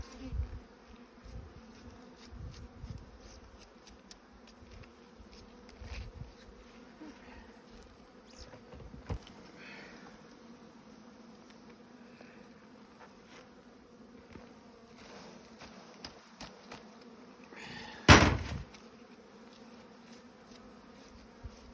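A steady, dense buzzing of many bees fills the air throughout, with a few louder passes and a brief knock near the end.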